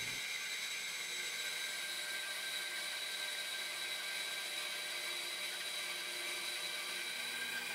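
A bandsaw resawing wooden slabs gives off a steady, loud, high-pitched whine that holds without a break from start to finish, with no talking.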